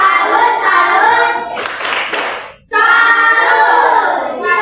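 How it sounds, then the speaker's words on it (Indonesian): An elementary school class claps together in the tepuk salut chant, a sharp burst of group clapping in the middle with a teacher's voice before and after. "Tepuk salut dulu untuk kelompok 2."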